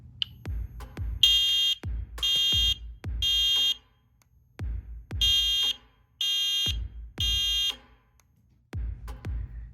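A first-generation Genesis horn strobe fire alarm sounds a repeating temporal pattern of three harsh, loud horn blasts separated by pauses, each group repeating in a steady rhythm, heard alone and up close.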